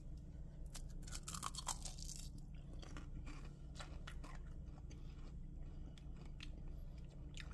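Someone bites into crunchy, egg-free cheddar cheese chaffles, giving close, crisp crunches and chewing crackles in irregular bursts against a quiet background, with no talking.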